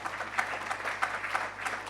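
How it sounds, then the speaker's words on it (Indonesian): A church congregation at a Sunday service claps in a loose, uneven rhythm, distinct hand claps sounding moderately near over a low steady hum. "Yang percaya saja berikan tepuk tangan."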